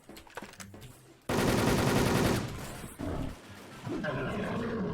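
Bursts of automatic gunfire from a first-person shooter game, loud and dense, in a sustained rattling volley followed by shorter repeated bursts.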